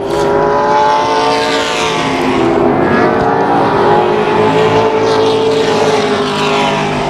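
Late model race cars scream around Tucson Speedway in a main event. Loud, continuous engine whine rises and falls in pitch as the cars pass and accelerate.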